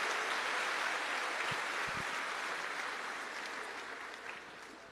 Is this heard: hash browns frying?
no